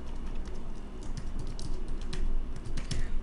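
Fast, steady keystrokes tap on a computer keyboard up close, a continuous patter of clicks with no voices.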